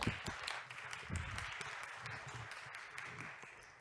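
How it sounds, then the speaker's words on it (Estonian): An audience at a business talk applauds, with steady, moderately distant clapping that goes on for a few seconds and no clear voices. "Aga suure aplausi saatel Timo Porval, palun!"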